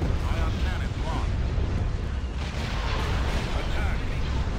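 Ion cannon fire in a Star Wars space strategy battle: a dense, continuous roar of booming blasts and rumble fills the whole stretch at a steady loud level, with some voice chatter mixed into the din.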